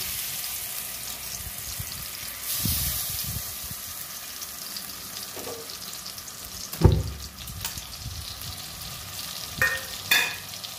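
Coriander, cumin, chilli and turmeric sauté in a pan with a little water, sizzling and spattering steadily while a spoon stirs and scrapes with occasional sharp knocks.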